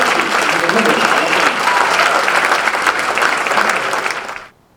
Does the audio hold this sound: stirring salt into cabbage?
no